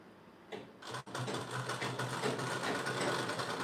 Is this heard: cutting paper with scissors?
no